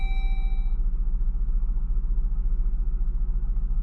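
A 3.6L Dodge Journey engine idles steadily just after starting following a cam-crank relearn, a constant low rumble with an even pulse and a faint fading chime at the start.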